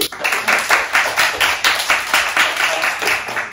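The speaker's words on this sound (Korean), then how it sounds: "큰 박수" Applause from an audience at a Korean company recruitment information session, steady rhythmic clapping filling the room throughout, moderately loud and close with no talk over it.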